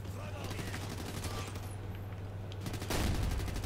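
Rapid burst of gunfire from a sniper rifle in the multiplayer shooter Ghost Recon Future Soldier, steady repeated shots over a constant low game hum, growing louder near the end.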